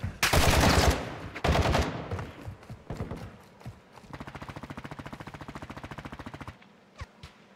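Video game gunfire rattles out in two heavy, dense bursts, followed by scattered single shots and then a long, even automatic stream of rapid rhythmic shots, ending with a couple of isolated cracks.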